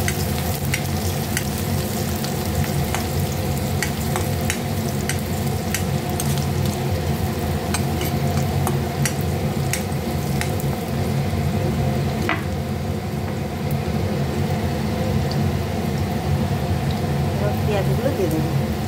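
Garlic cloves fry in a pan with a dense, continuous sizzle and occasional stirring crackles, close and steady throughout, while a voice talks faintly underneath.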